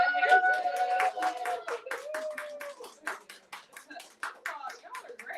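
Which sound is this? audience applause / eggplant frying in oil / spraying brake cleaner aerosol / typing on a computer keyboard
audience applause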